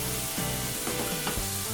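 Bite-size squash pieces sizzle steadily in a hot pan, a continuous close frying hiss with a few brief stirring shifts and no voices, while preparing a summer vegetable primavera pasta.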